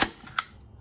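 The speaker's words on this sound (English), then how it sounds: "my staple gun, whatever it's called, because neither one sound right. Staple gun." A staple gun fires twice in quick succession indoors, each a sharp, close snap: the first loud, the second a crisp metallic clack, then quiet.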